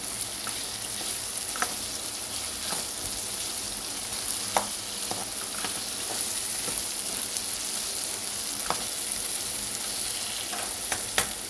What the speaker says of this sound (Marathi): जरा हा लसणाचा वास येतो ना, म्हणून थोडा आपण तेलात त्याच्याबरोबर परतूया.